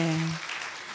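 A church congregation applauding during a Sunday service, a faint, even patter of clapping that follows a brief sung tone and fades slightly over one second.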